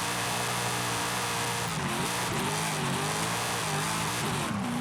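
A Mitsubishi Evo X in the Forza Horizon 5 racing game, its engine droning steadily with rising and falling revs as it drives, a continuous close engine tone with no talking.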